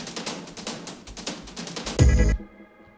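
Ethnic percussion instruments in a psytrance project rattle in fast, dense rolling hits, ending in a heavy booming impact that cuts off abruptly.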